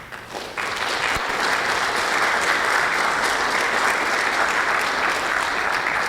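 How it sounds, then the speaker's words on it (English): Applause from an audience at an institute anniversary speakers' event for Dr. Young's children starts lightly, then swells into a sustained, even round of clapping from a full room. "letting us give you a round of applause"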